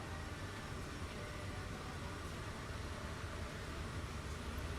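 Interior rumble of a moving train in the Canary Islands, a steady, even broadband hiss and low drone with no breaks, fairly quiet and alone without talk.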